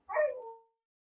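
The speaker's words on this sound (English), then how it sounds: "That daggone beagle of mine started howling as I was reading." A beagle lets out a single short howl indoors, rising then trailing off in a drawn-out wavering tone, close and fairly quiet, with silence after.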